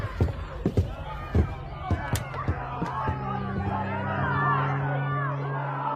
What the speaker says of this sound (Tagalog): May naririnig akong sigawan ng mga tao.